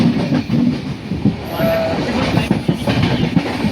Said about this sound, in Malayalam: നമ്മൾ തിരിച്ച് ചെന്നൈക്കുള്ള ട്രെയിനിൽ കയറി